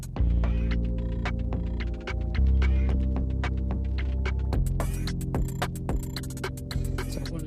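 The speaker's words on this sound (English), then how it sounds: "We're going to sew this at a 1/2 inch seam allowance." A sewing machine stitches a garment seam at a half-inch allowance, its motor giving a steady close hum with fast rhythmic needle ticking that briefly pauses and resumes.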